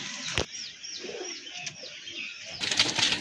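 Pigeons of the Madrazi Golla and Rajgolla breeds in courtship, soft repeated cooing mixed with sharp wing flaps and a burst of fluttering near the end, close by with no talk.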